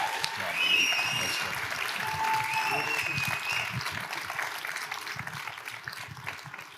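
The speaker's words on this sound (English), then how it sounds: "let's have a big round of applause" A crowd at an opioid summit claps in sustained applause, a dense, steady patter of many hands that holds for several seconds before tapering slightly.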